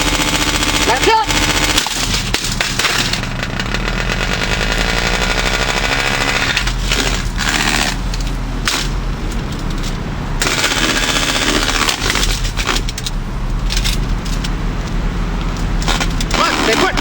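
A Holmes HBF2002A box fan runs loud and close, giving a harsh, steady rattling whir with a few brief dips across the whole stretch.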